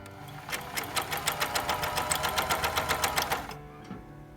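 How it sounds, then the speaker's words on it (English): A serger overlock sewing machine stitches through fabric with a fast, steady mechanical chatter for about three and a half seconds, then stops, leaving a near-quiet tail. "Let's see if it will serge my fabric now."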